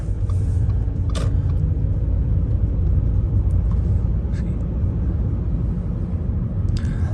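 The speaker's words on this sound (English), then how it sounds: "press the accelerator" Audi A4 2.0 TDI from 2013 accelerating smoothly on the road, a steady low engine and road rumble filling the cabin with brief higher noises over it, continuous and fairly loud throughout.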